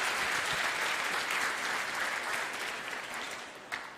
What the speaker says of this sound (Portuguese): Você pode dar uma salva de palmas para eles?